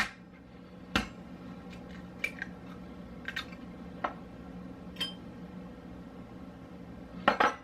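Three eggs are cracked into a bowl in a kitchen, giving sharp isolated taps and clinks at irregular intervals against quiet room tone, with no talking.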